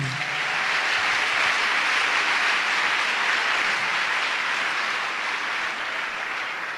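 A church congregation applauding and cheering, a steady, full wash of clapping and crowd noise that holds loud and even throughout, with no speech on top.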